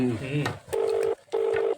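Someone dials a phone call, with two steady electronic tones, each about half a second long, following brief talk at the start.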